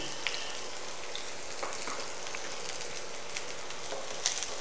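Half a chopped onion frying in spice-infused oil for coconut masoor dal, giving a steady, close hiss of sizzling with light crackles and pops throughout, no voices.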